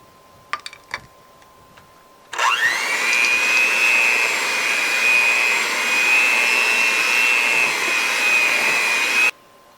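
Brownie batter with chocolate chips is mixed by machine. After a few faint clicks, a loud, steady motor whine starts suddenly and runs for about seven seconds before cutting off.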